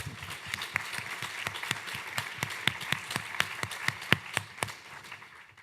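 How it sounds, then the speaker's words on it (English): A small audience at a university student challenge showcase applauds with sparse, distinct hand claps, fairly faint and uneven, with individual claps standing out rather than a full crowd roar. "Can we give them another round of applause, please?"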